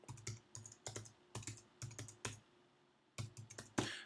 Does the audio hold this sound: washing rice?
no